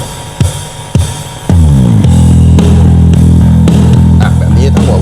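Electric guitar played through a boost setting with the tube boost switched off and no distortion pedal, a few plucked notes ringing out and then a loud, sustained driven chord pattern that fills the rest of the passage.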